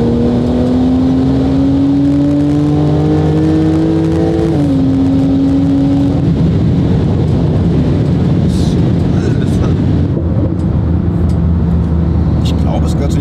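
Porsche 911 Turbo S tuned to 1300 hp accelerating hard, a loud engine note rising steadily in pitch through a gear change and then settling into broad road and wind roar, with people talking over it.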